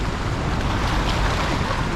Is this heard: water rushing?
yes